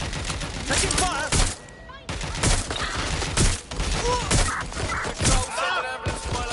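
Gunfight in the Watch Dogs video game, with bursts of rapid gunfire, impacts and shattering crashes coming in loud clusters separated by brief gaps.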